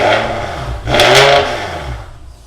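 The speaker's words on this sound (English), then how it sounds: "So that was just a gentle rev, just to have a little look at some log files." BMW E92 M3 fitted with a swapped V10 engine given a gentle rev, a deep close engine drone that swells briefly in pitch and loudness, then settles back down.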